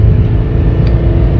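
Renault Twingo II engine accelerating, a steady low drone heard from inside the car, loud and continuous with no voices.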